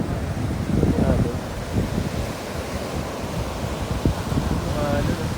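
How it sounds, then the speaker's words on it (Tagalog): Strong sea waves surge and wash in a continuous roaring rush with wind buffeting the microphone, while people talk faintly over the surf. "Grabe yung alon mo, sobrang lakas."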